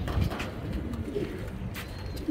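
Soft, close cooing of racing pigeons: low throaty coos repeating a few times over a quiet, slightly noisy background, with no voices.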